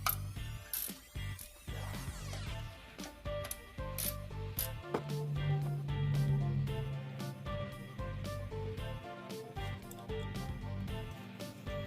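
A ratchet clicks in rapid, steady runs up close while loosening the CVT filter bolts on a 2015 Mitsubishi Lancer, with a few sharper metallic taps at the start.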